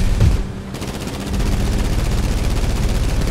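Loud, rapid automatic gunfire from a GTA V heist: a heavy boom, then a continuous rattling burst of shots with no voices.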